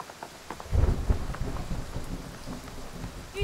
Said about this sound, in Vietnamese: Mưa to rồi, tạm ngừng đi.